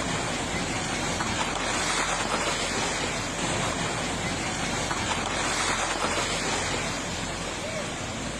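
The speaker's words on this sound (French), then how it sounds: "De fortes rafales de vent ont déraciné un arbre" Strong wind gusts roar steadily and loudly at Castelldefels, Spain, buffeting the microphone with dense, unbroken noise that swells and eases slightly throughout, with surf-like rushing.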